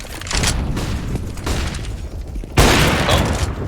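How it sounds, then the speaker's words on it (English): Flashbang grenades going off in a Counter-Strike match: a few sharp, loud bursts with hissing, crackling tails, close and dominant, with a big blast near the end. "these flashbangs are really nice, actually"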